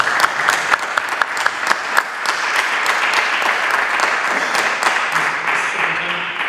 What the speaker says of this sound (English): we'd just like to give him a round of applause.